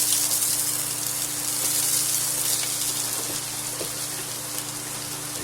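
Food for creamy buffalo wings with sausage and beans sliding into a hot pan, heard as a dense, even hiss of sizzling oil that carries on steadily throughout.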